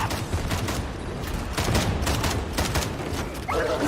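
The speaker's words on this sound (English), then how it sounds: "That man is shooting a sniper rifle at us." Sniper rifle fire in the video game Darktide, a string of loud, sharp gunshot bursts repeating at irregular short intervals over a dense background of combat noise.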